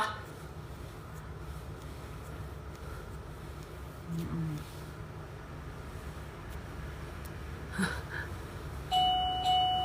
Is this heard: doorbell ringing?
yes